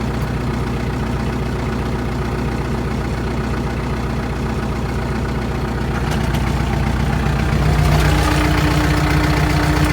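A Lovol 354 tractor engine runs steadily at a low idle-like drone while ploughing an irregular garden plot, loud and continuous with a slight rise in level near the end.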